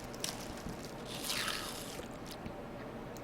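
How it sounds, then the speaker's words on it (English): Soft crunching and squishy chewing of a granola bar in the survival video game The Long Dark, quiet and close with a brief wrapper-like scrape in the middle. "So we'll eat this granola bar."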